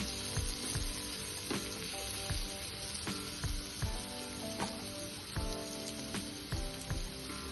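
Bitter gourd with spice masala and crushed peanuts sizzles steadily in a pan, with soft rhythmic scrapes and knocks of stirring repeating throughout, alone and fairly quiet.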